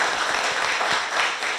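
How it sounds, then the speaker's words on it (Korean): Audience applause at a Korean public forum on prosecutorial reform, honouring a longtime democracy activist: a short, dense burst of warm clapping from a crowd, even and continuous throughout. "우리 모두 뜨거운 박수 한번"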